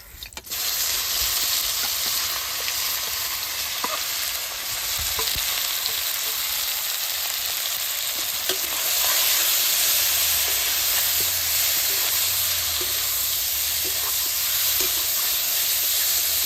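Raw green banana fries in mustard oil with green chillies in a kadai, a loud, continuous sizzle with scraping stirs from a spatula and a low rumble in the later part.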